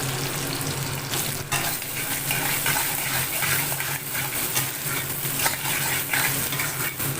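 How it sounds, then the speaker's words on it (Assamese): Finely chopped onions frying with goat mutton and bay leaf in hot oil, a close, continuous crackling sizzle with occasional clinks of a stirring utensil against the pan and no talking. "এতিয়া মই ইয়াতে মিহিকৈ কাটি থোৱা পিঁয়াজখিনি দি দিছোঁ।"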